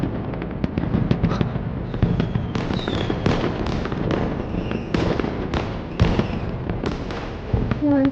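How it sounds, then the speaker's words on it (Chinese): Fireworks burst in a dense, rapid volley of loud cracks and booms that overlap steadily for about eight seconds, with crackling tails between the sharper explosions. "听闻此地的烟花又大，"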